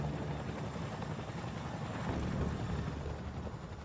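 A Chinook helicopter in flight gives a steady, dense rotor and engine roar, continuous and fairly loud throughout with no clear breaks or voices.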